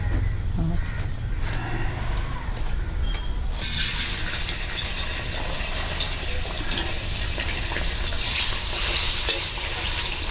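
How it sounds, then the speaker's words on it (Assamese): Fish frying in a kadai over an open wood fire outdoors, giving a steady broadband sizzle that swells louder partway through, with a crow cawing now and then in the background. "আগতে মাছখিনি ফ্ৰাই কৰি লওঁ"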